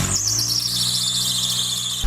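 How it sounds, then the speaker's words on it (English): A squealing car alternator belt gives a steady, shrill, high-pitched whine over a low mechanical hum, sustained for about two seconds before a brief bump at the end. "Alternator belt."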